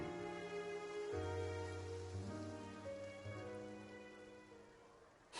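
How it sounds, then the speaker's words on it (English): Steady rainfall in the video game Genshin Impact, a soft continuous patter heard throughout under sustained musical tones. "It rained for longer than I suspected."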